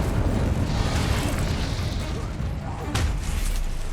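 A fire spell cast during combat in Hogwarts Legacy bursts out as a loud, roaring whoosh, sustained and dense, with a brief sharper flare near the end.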